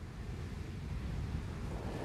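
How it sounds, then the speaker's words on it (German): Wind-driven open sea off the island of Borkum, a steady, loud roar of breaking surf with wind buffeting the microphone, continuous and unbroken, with no voices. "Das offene Meer, schön aufgewühlt von dem Wind."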